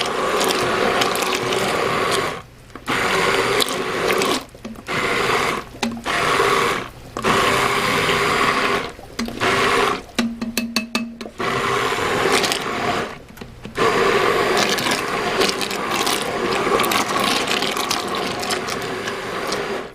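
A handheld immersion blender blending pineapple jam whirs loudly in repeated bursts, starting and stopping about a dozen times with a rattling, grinding tone, close up.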